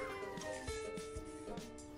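A small kitten meows in short repeated cries, close and clear over a steady background hum, with no talking.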